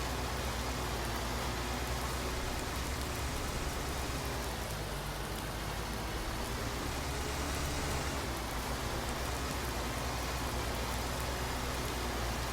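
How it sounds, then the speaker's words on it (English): Steady rain falls in the farming video game Farming Simulator 19, a soft, even patter that holds quietly and without a break throughout. "it is raining"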